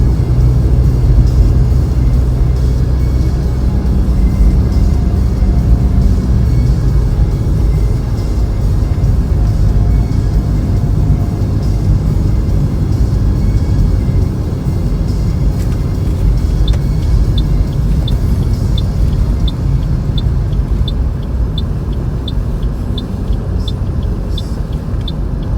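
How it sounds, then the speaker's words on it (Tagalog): A car drives through snow, snow rolling under the tires making a constant loud road rumble, steady engine noise filling the cabin, and faint ticking near the end. "Nagro-roll yung snow sa gulong."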